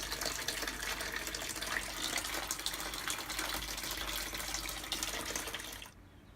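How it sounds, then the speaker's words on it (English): Beer wort pouring from a workbench height into a fermenting vessel, a steady close rushing splash of liquid that runs continuously and then stops abruptly near the end. "just dropping it in to the FV off the top of the workbench. Get it nice and aerated"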